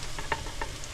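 Flour stirred into a hot pan with garlic: a faint sizzle with a few soft scraping taps from the stirring, heard briefly and alone.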